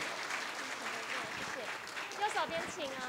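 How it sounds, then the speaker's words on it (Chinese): Audience applause at an award ceremony, a steady wash of clapping across the whole stretch with a voice speaking over it near the end. "我们再次掌声谢谢他们"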